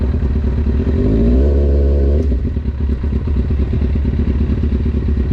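Kawasaki Ninja ZX6R engine running steadily, loud and close, with a brief rising rev that drops back to a rough, throbbing idle.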